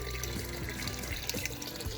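Water trickles and splashes gently and continuously from a small garden pond waterfall, a soft close-up burble with no other sounds.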